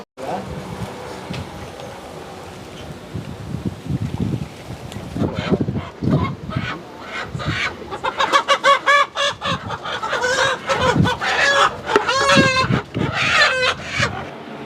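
Many native country chickens cluck and squawk close by at a roadside dhaba, a dense busy flock chattering continuously, with a rooster-like call rising among them and some voices talking underneath.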